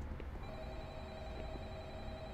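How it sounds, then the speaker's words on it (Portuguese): An in-game telephone rings in the horror game FNAF: Doom, faint and steady beneath a dense, noisy background hum. "Tá tocando no telefone!"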